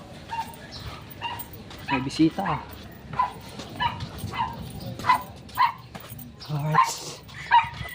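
A dog on a beach barks and yips repeatedly in short bursts at an uneven rhythm, fairly close, mixed with people talking nearby.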